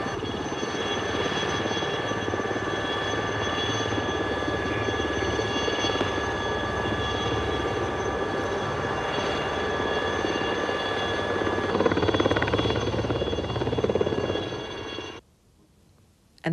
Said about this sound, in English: We will now take off for a short flight.